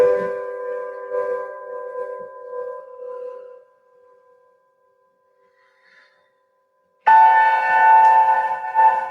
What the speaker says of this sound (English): You'll hear a soft bell to indicate that we've begun